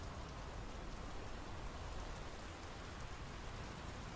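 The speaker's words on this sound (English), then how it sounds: "The rain's picking up." Steady, dense rain falls in the video game Draugen, a continuous close hiss of drops with no pauses or other sounds.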